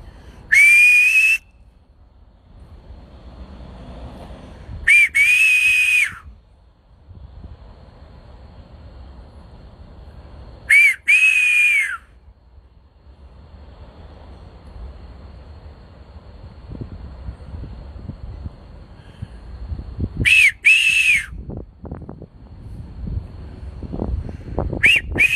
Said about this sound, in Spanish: Yo no chiflo muy fuerte, pero igual a lo mejor puede sonar fuerte